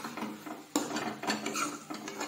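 Potatoes and okra being stirred into masala in a pan, with a run of close metallic spoon clanks and scrapes against the pan over a soft frying hiss, no talk.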